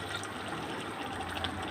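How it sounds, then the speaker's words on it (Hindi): Boiled chickpea water poured into a cooking pot for chickpea pulao, a quiet continuous watery splashing and trickling that runs steadily on its own. "अब ये जो बॉयल किए हुए चनों का पानी है वो मैं इसमें शामिल करूँगी।"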